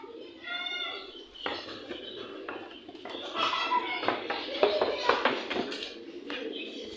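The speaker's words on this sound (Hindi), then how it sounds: "कबूतर भी अच्छे खासे पूरे खुले में" Pigeons coo in the open at a home where ducklings have hatched, their soft repeated calls mixing with clinking like dishes or metal and someone talking over the scene.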